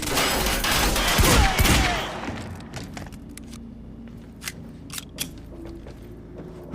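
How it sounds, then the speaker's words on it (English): Gunfire in the Quantum Break video game: a dense burst of rapid shots up front, then scattered sharp single shots and cracks echoing sparsely after the barrage fades. "Suppressive fire!"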